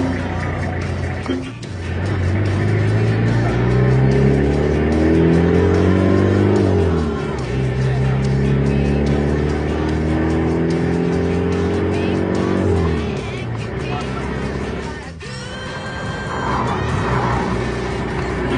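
Car on a test drive after a gear lever bushing replacement, engine droning loud and steady through repeated rising gear pulls, with tire noise and a brief drop near the end, under a little talk.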